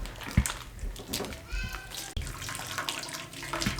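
Boiled chicken drumsticks and their cooking liquid poured into a strainer, giving a close splashing, gushing pour of water with clinks, under a voice.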